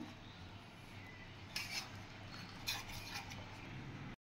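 Cake batter being stirred in a bowl, with faint scraping and clinking of a utensil against the bowl in a few soft bursts over a quiet background.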